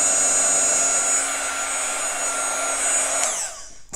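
A heat gun melting crayon wax blows a steady, loud, even rush of air with a faint whine for about three seconds, then cuts off and quickly fades to quiet.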